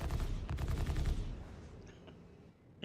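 A dense burst of rapid gunfire in the Star Citizen space game rattles loudly, then thins and fades into quieter background rumble with a faint click at the end.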